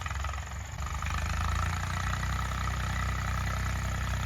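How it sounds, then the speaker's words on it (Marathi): An old Eicher farm tractor engine runs steadily nearby, a continuous low diesel chug with a faint dip at the start before settling into an even idle, with no talk over it. "आयशरचा आवाज बघा"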